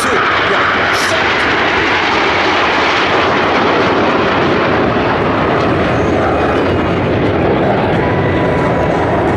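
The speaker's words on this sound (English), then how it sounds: "cameras on the center of the display line is gonna be 5 airplanes for the left, 4 from the right." Frecce Tricolori jets roar past during an air show display at Cold Lake, with a loud, continuous engine rush that swells and fades as the formation crosses overhead.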